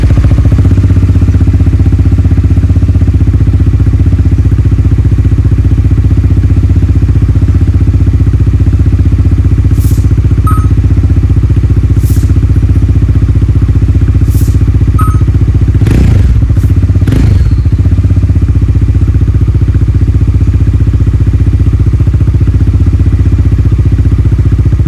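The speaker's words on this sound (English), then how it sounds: "Now let's hear onto the exhaust note." A Bajaj Dominar 400 motorcycle runs with a freshly replaced exhaust muffler gasket, giving a steady, loud, close exhaust drone that holds for the whole stretch, broken by a few brief clicks and knocks.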